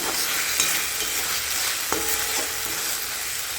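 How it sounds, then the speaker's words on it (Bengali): Tomatoes stirred in a frying pan, constant sizzling hiss with occasional sharp clacks and scrapes of the utensil against the pan, close and steady throughout with no talk. "টমেটোটা দিয়ে খুব ভালো করে নাড়াচাড়া করব"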